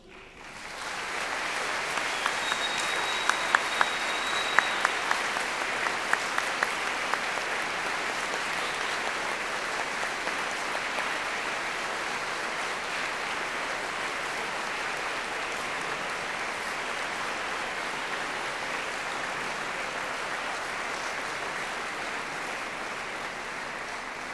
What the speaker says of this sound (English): giving them an enthusiastic round of applause